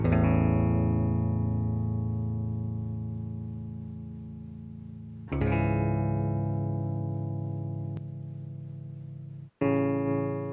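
Guitar chords with tube saturation distortion ring out and sustain slowly, three strums in all, with a warm, saturated crunch and no voices.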